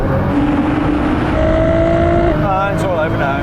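Tuned Nissan GT-R cars locked in second gear accelerating hard from 30 mph in a rolling drag race, a loud, steady engine roar with rising pitch and a shift in tone near the end, heard close from inside a car.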